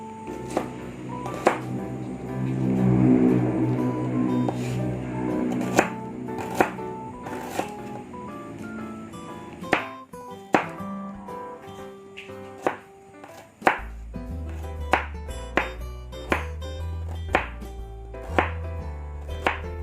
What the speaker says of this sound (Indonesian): Sekarang kita mulai untuk menghaluskan bumbu yang untuk dicemplung saja